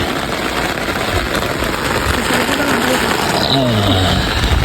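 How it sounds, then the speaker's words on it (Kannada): Heavy rain pours down steadily on an outdoor fishing spot, a dense, loud hiss with no letup, while people nearby talk under their umbrellas. "ಮಳೆ ಜೋರಾಗಿ ಬಂದ್ಬಿಡ್ತು ಮಳೆ"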